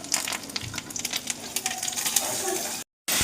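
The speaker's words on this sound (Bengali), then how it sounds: "এটা ডিম ভাজছে এখন।" An egg frying in a pan, with a bright crackling sizzle and scattered pops close up, cutting off briefly near the end before resuming.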